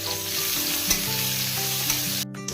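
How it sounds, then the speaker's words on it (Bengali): Eggplant pieces frying in white oil in a wok, a loud steady sizzle with occasional stirring clicks, close and continuous with no talk. "বেগুনগুলো ভেজে নিব।"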